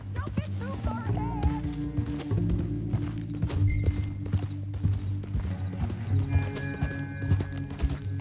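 Horse hooves clip-clop at a steady walking pace in Red Dead Redemption 2, a rider and captive heading toward Saint Denis, with voices and game ambience running underneath.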